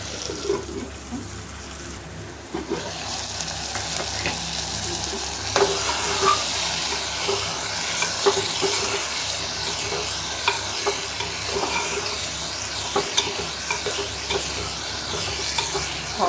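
Okra fries in a pan with green chillies and tomato for a sour curry while a spoon stirs it. A continuous sizzle mixes with scraping and clinking from the stirring, close and steady throughout.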